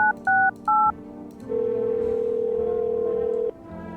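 Touch-tone telephone dialing in the indie horror video game No, I'm Not a Human: three short DTMF key beeps, then a steady tone lasting about two seconds over a low background hum.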